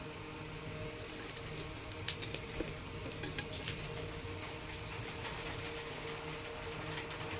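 Steady soft patter of rain on a surface, with a few sharper drips and taps standing out partway through, continuous and moderately quiet.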